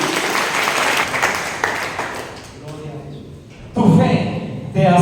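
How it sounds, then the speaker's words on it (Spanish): Congregation at a church service clapping their hands for Jesus, a dense burst of applause that fades into a preacher's speech, with more loud speech and hand claps returning near the end. "que choques esas palmas por Jesús"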